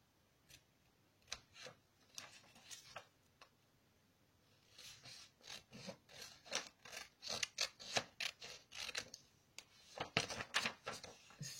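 Scissors cut through paper or card for a craft, making quiet, close snips that come sparsely at first, then in quicker, denser runs.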